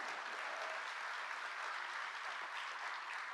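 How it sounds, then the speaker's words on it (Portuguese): An audience at a Brazilian government signing ceremony with President Lula applauds Minister Margareth Menezes, a steady, dense wash of clapping heard from a distance, even in level for the whole stretch without voices. "Uma salva de palmas para a nossa ministra Margarete Menezes."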